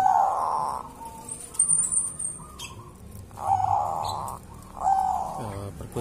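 A zebra dove cooing in short repeated phrases with pauses between them, close and clear, with a faint chirp in the background.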